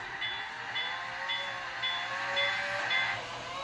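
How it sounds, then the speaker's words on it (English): A model train locomotive reverses slowly on a turntable with a steady mechanical whir and faint squealing tones, continuous and moderately close, with no talking. "I have it in reverse so that it can back up and then hook up to the front of the train."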